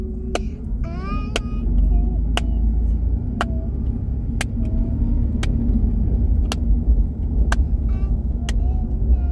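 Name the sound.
car driving, heard from inside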